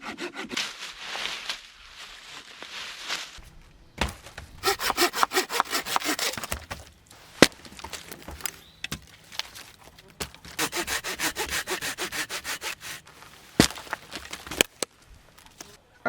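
Hand saw cutting through wood for campfire firewood on a solo backpacking trip, rough rhythmic strokes in several bursts with short pauses between, close and fairly loud.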